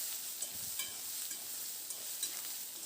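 Soybean chunks fry in a pan with salt, a soft steady sizzle with a few light scrapes of stirring, fairly quiet throughout.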